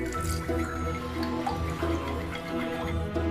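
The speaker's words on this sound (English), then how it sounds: "add an appropriate amount of warm water, about 50 degrees Celsius, pouring it in while stirring with chopsticks" Warm water, about 50 degrees Celsius, poured into beaten eggs while chopsticks stir, giving a steady close trickle with soft dripping and light splashing throughout.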